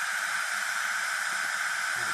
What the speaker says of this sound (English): I've just got it set for basic white noise